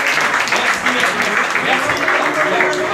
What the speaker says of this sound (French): Je vous demande d'applaudir Antoine, mesdames et messieurs.